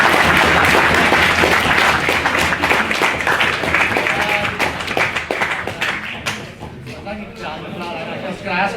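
Loud audience applause in a debating chamber after a speech on abolishing the monarchy, thick clapping that thins and fades toward the end while a voice begins speaking over the tail.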